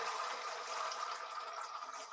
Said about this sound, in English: Water in the tank.